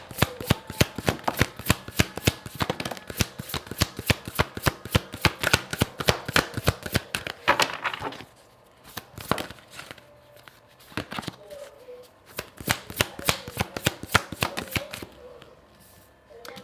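A deck of oracle cards is shuffled for a card reading, giving a rapid run of crisp riffling flicks up close. The flicks pause briefly partway through, then resume at a steady pace.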